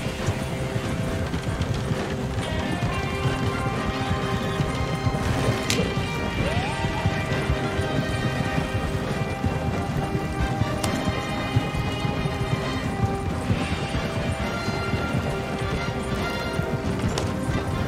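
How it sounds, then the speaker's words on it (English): Steady horse hooves clip-clop along at a trotting rhythm under a busy, continuous game soundscape in a Western video game, with no one talking. "I'm gonna get my fucking horse"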